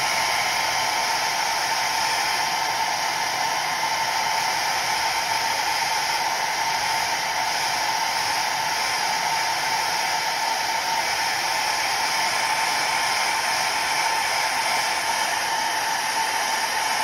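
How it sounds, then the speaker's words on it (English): A hair dryer blows continuously at close range, drying acrylic paint, a steady whirring hiss that holds level from start to finish with no voices. "Sorry about the hair dryer, but we need to dry real quick."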